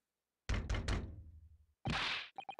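Three heavy, hollow knocks on a door in a video game, struck in quick succession, followed by a loud burst of noisy rushing sound and a few short electronic chirps.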